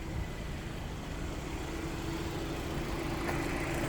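2020 Hyundai Kona Active with a 2-litre four-cylinder engine idling with the bonnet up, a steady low rumble that stays even and close with no talk.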